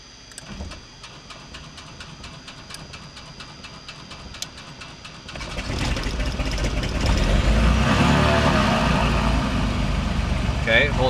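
A Cessna 310R aircraft engine cranks and fires, the steady idle-like rumble in the first half building abruptly into a loud, fuller roar that keeps rising as the engine catches and runs up; voices talk intermittently over it.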